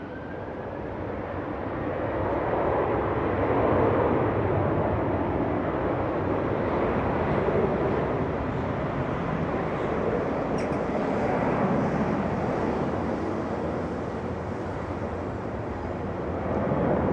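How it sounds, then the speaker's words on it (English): An Airbus A330 takes off at Amsterdam Schiphol, a steady broadband jet roar that builds, holds loud for many seconds and eases slightly near the end, heard from a distance with no talking. "Alright, the A330 is lined up."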